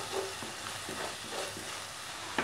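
Spices roasting in oil with onions in a pan, a soft continuous sizzle with several light stirring scrapes at a slow, uneven pace, close but quiet, without speech.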